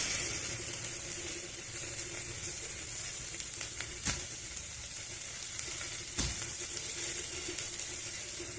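Green chillies dropped into hot oil, giving a steady, fairly quiet sizzle and crackle with a couple of sharp clatters of a pan or utensil, no talk.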